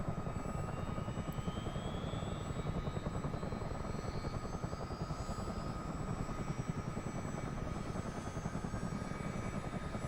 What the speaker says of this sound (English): we'll see engine number 2 starting to come up